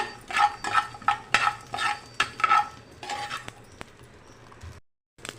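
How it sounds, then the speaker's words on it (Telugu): Repeated scraping strokes of a spatula stirring cashews frying on low heat in a pan, rhythmic at first, then softer and sparser before falling silent. "జీడిపప్పు నాలుగైదు జీడిపప్పులు సిమ్లో పెట్టి ఫ్రై చేసుకున్నామండి"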